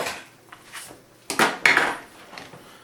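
Pizza topped with cheese, crispy mushrooms and caramelized onions is lifted out of an air fryer basket, giving a few clattering metal and handling knocks, with two louder clunks in the middle and quieter rattles after.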